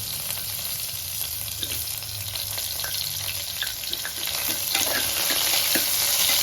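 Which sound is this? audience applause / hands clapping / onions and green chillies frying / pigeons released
onions and green chillies frying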